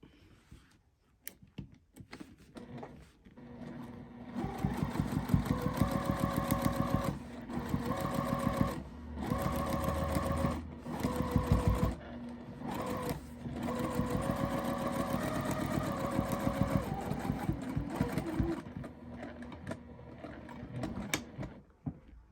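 A sewing machine quilts an orphan-block tote bag, stitching point to point across the block. The motor runs close and steady in long bursts with brief pauses between runs, and no one speaks.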